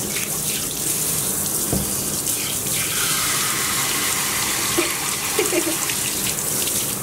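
Running shower water rinsing a miniature schnauzer during grooming, a steady close gushing spray with slight splashing shifts, no talk.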